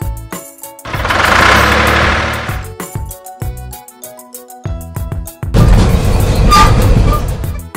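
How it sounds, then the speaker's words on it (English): A red tractor engine fires up in two loud bursts of deep, rumbling running, separated by a brief sharper clattering gap, heard close with no talking. "Red Tractor."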